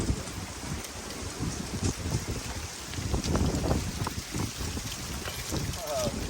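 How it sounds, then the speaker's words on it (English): Gusty wind blows outdoors, buffeting the microphone with a continuous rough rumble and rushing noise that swells and eases throughout. "it still gets gusty like right now"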